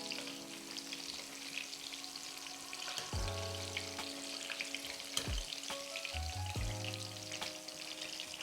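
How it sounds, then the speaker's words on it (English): Onion bhaji pakora frying in hot oil give a steady soft sizzle, with a few low clunks as they are turned in the pan. "Once your pakora have had a few minutes to fry, just give them a little flip."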